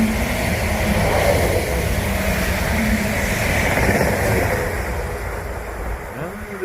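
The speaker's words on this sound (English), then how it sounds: "We have a train approaching platform 2" A train passes through Stowmarket station without stopping, a loud, continuous rushing roar with rumbling wheels close by, easing off slightly toward the end.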